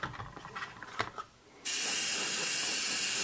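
Spray can laying a light coat of primer onto Renault Master model kits, a loud steady hiss that starts abruptly partway through and runs to the end after some quieter handling noises.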